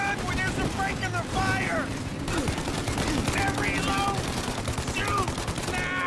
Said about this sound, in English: They got like a Gatling gun on that thing.